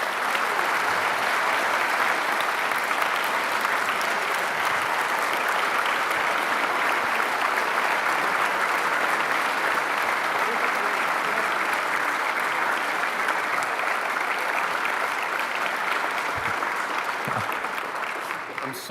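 Sustained audience applause fills a hall at the Reagan Presidential Library as Supreme Court Justice Neil Gorsuch is welcomed, a steady dense roar of clapping lasting throughout and tapering slightly at the end.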